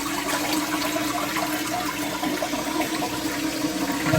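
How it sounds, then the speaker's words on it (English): A toilet fitted with a Fluidmaster 400A fill valve flushes in a steady, close rush of water that runs unbroken for the whole stretch, a fairly weak, even flush with no voices over it. "You could hear it's not a great flush."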